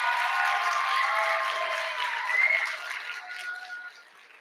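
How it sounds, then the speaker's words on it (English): A gathering crowd gives a round of applause for the directors and admin team, steady clapping that swells briefly and then tapers off, with no talk. "can we give them a round of applause too?"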